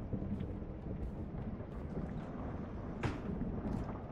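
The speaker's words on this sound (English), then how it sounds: "the lightning keeps scaring me. Damn. It's so loud." Thunder from lightning in the horror video game Escape the Backrooms, a low rolling rumble with wind and rain noise and a few sharper cracks, faint and unbroken, without speech.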